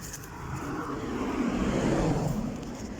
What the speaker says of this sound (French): il y a une voiture qui arrive